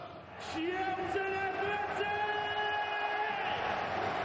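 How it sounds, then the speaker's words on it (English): Big football crowd at Charlton's stadium, the Valley, for a Championship match, a sustained chanting roar with sung tones rising over the general noise. "A big crowd at the Valley this afternoon for this meeting of 2 top 6 sides"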